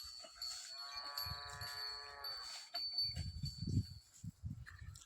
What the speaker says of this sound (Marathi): आपली ही गाय आहे बघा